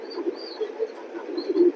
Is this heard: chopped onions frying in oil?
no